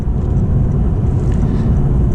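Steady, loud low-frequency rumble of a 2022 Lexus RC350 F Sport with its 3.5-liter V6 driving on the road, continuous engine and road noise with no voices.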